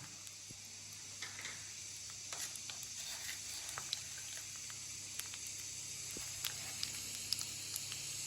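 Crushed garlic frying in hot oil as a tempering for an ivy gourd chutney, giving a steady close sizzle and hiss with scattered small pops and crackles throughout, no voices.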